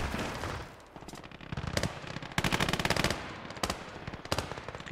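Autocannon fire in the World War II game Gates of Hell: Ostfront comes as rapid, rattling bursts of shots, loud and repeated amid the battle noise.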